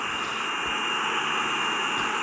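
Boeing 747 jet engines roaring during takeoff in the flight game SimplePlanes, a steady loud broadband whine and rush with a high tone, unbroken for the whole stretch.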